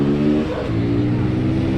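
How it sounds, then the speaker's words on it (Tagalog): A car engine accelerating away nearby, a loud rising rev and whoosh over about two seconds that holds steady as it pulls off. "Bilis ng sasakyan niya."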